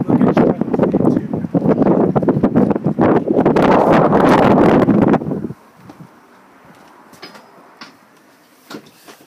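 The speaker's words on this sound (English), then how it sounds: "It's quite windy today" Strong gusts of wind buffet the microphone outdoors beside a large touring caravan, loud and rumbling for about five seconds before dropping to a quieter breezy rustle with a few faint knocks.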